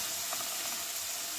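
Water poured onto spice paste frying in a pan sets off a steady, close, bright sizzle and hiss that holds evenly throughout, with faint stirring underneath.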